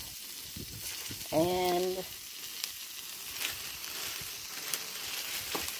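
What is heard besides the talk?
onions sizzling while grilling in a pan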